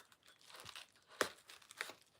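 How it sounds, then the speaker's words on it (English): Quiet crinkling and tearing of plastic wrapping, with a few sharper crackles standing out against soft rustling, close by. "I'm trying to open this package here."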